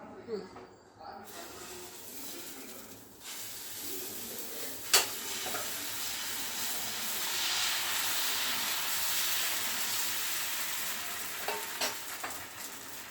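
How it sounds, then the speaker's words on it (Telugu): Dosa batter sizzles steadily on a hot pan, a broad continuous frying hiss that swells midway, with a sharp clink and a few light scrapes breaking through. "చూడండి దోశ ఎలా వేస్తున్నాను"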